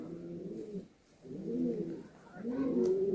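Andhra pigeons coo in three rounded, throaty bursts, close by, with short pauses between each call.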